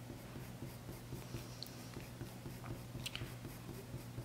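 A coloured pencil scratches steadily on white paper during a real-time drawing, a faint, continuous rhythmic scribbling heard up close against a low background hum.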